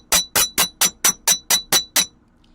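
A hammer strikes metal nine times in a quick, even rhythm, each blow a sharp, bright ring, close up and alone, while shaping metal scale pieces for a mermaid necklace.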